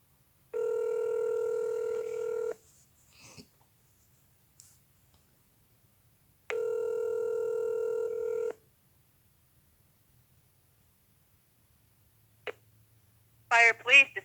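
A telephone call rings through to a fire and police dispatch line, with two evenly spaced two-second ringback tones separated by silence, then a click and a brief burst of voice as the line connects.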